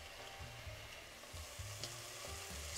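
Onions caramelizing in a pan for French onion soup, sizzling steadily and fairly quietly with a low, soft frying hiss throughout, no voices.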